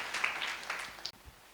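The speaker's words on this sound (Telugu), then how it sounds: "గట్టిగా చప్పట్లు కొట్టి దేవుని మహిమ పరుద్దామా" A church congregation claps loudly during a Sunday service, a dense wash of applause running for about a second before cutting off abruptly into quiet room tone.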